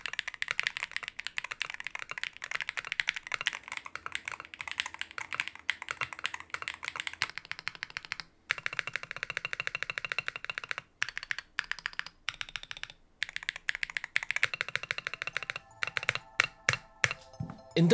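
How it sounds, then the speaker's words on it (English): Rapid, continuous clacking of a Neo 65 Sonic HE mechanical keyboard being typed on up close, with brief pauses and a few louder single key thocks near the end. "with the correct set of keycaps, it sounded basically like a custom keyboard."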